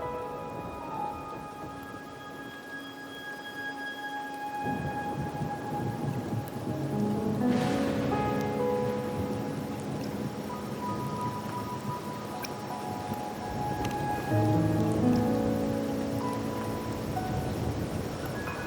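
Steady rain with rolling thunder in a video game companion quest, a continuous broadband wash that swells in the middle and stays at a constant moderate level throughout, with no voices.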